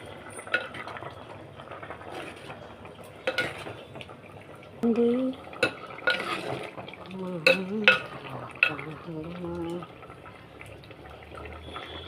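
Vegetables simmer in a pot for a home lunch while a spoon scrapes and clinks against the metal, soft bubbling underneath, with someone talking intermittently over the stirring.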